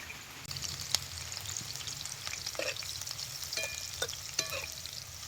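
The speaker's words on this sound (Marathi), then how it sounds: "हे बारीक चिरलेल्या मिरच्या तेलात घालतो." Finely chopped green chillies sizzle in hot oil in a village kitchen as sabudana khichdi is cooked, a steady close crackle with a few brief stirring clicks and pops.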